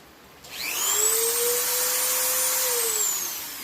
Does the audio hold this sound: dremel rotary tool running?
yes